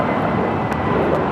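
A Spirit Airlines Airbus A320neo takes off at LAX, producing a brief, steady, loud jet roar with a broad rushing texture.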